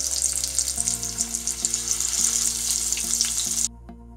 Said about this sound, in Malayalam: ഇതിലേക്ക് നമുക്ക് ചിക്കൻ ഇട്ട് കൊടുത്തിട്ട് നന്നായിട്ടൊന്ന് ഫ്രൈ ചെയ്തിട്ടെടുക്കാം.